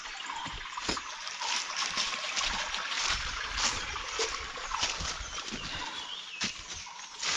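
Water flows steadily through a river channel past a built tank, a continuous close splashing and trickling rush with no voices over it.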